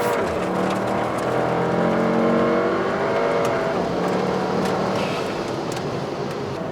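A modified VW GTI with an upgraded intercooler pulls hard under acceleration, its engine note rising steadily and loud from start to finish, heard from inside the car without talk.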